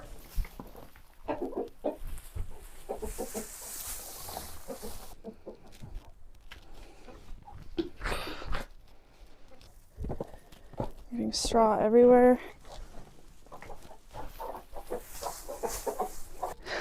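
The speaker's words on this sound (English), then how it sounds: "let's go check on the chickens" Chickens clucking in a straw-bedded coop during a northern winter, scattered soft clucks and a louder squawk mixed with rustling straw, with a person talking over it.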